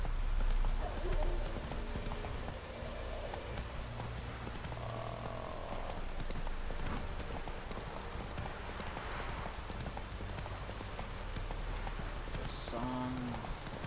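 Horse hooves clip-clop at a steady walking rhythm in The Witcher video game, with light rain, ambient wildlife and faint music around, and no voices.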